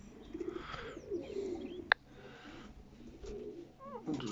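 Pigeons coo in a fancier's loft, low soft repeated calls near the microphone with a single sharp click partway through and a quiet background.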